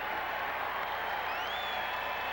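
Remaining crowd at Arrowhead Stadium cheering and applauding as the clock runs down at the end of a 1994 Seahawks–Chiefs NFL game, a steady broad roar with a rising whistle near the end.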